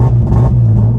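A Nissan 350Z engine stuck in limp mode stutters against a rev limit, its low pitch pulsing in a choppy cut-out pattern, loud and close.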